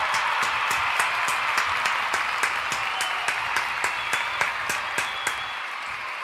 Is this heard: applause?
yes